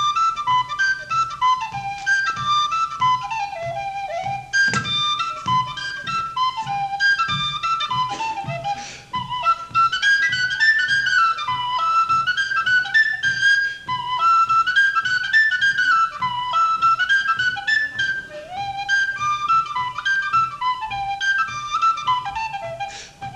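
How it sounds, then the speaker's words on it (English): A tin whistle plays the Irish tune Pigtown Fling, a bright, quick, ornamented melody that runs steadily and close up for the whole stretch, with no voices. "just give me a chance to play my tin whistle"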